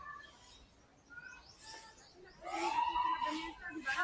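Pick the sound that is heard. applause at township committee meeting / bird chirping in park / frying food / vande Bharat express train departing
bird chirping in park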